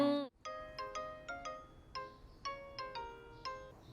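A phone ringtone plays a bright, repeating electronic melody of short plucked notes in a quick steady pattern, fairly quiet and clear, after a brief voice at the start.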